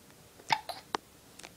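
A baby hiccups a few times in quick, short, sharp little bursts, close and fairly faint in a quiet room.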